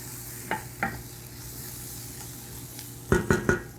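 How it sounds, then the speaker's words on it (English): Vegan chili with seasoning is stirred in a hot pot: a soft, constant sizzle is broken by two scrapes early on and a quick burst of three louder scrapes near the end. "So we're just going to keep stirring it around"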